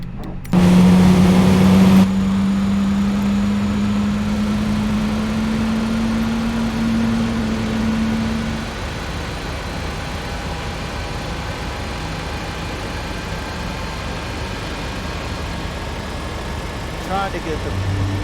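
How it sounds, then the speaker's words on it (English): Engine 1 of an Airbus A320neo spools up in a flight simulator during a cold-and-dark start at the gate: a tone rises steadily over a broad, constant mechanical hum that lingers without a break. "Now we're going to start engine 1."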